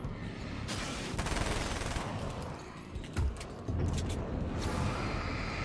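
Submachine gun fire in the video game Alan Wake's American Nightmare, rapid sustained bursts of automatic shots over a dense background of game noise, with a short gap and a heavy thump partway through.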